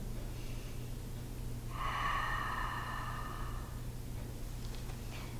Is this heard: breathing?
yes